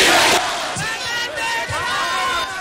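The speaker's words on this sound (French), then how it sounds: "elle fait répéter à la foule le numéro 20 au cours de la caravane électorale qu'elle a organisée hier dimanche" A crowd at an election caravan chants a candidate's number in loud, rhythmic repeated shouts, with a dense roar of many voices underneath.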